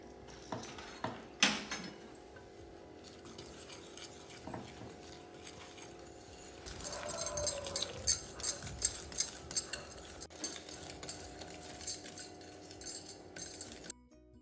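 A whisk clinks steadily against a bowl while whipping a chocolate biscuit cake mixture, first quietly and sparsely, then in a faster, louder run of rhythmic taps.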